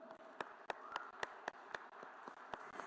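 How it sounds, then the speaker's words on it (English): Scattered applause from a student audience at the BioAsia 2025 life sciences event in Telangana, a moderate, steady patter of claps with a few sharper individual claps standing out, heard from a distance. "Let the claps keep rolling."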